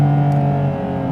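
Porsche 718 Cayman GT4 RS mid-engined flat-six pulling hard on the road, with its loud, steady induction roar carrying strong sustained harmonics and no talk over it.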